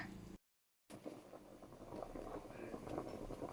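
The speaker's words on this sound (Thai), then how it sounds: "น่าจะเริ่มเดือดแล้วค่ะ ได้ยินเสียง เดือดแล้ว" A pot of salted carp stew on the stove gives off a faint, soft bubbling and patter as it starts to boil, quiet and close, broken by a brief gap of silence.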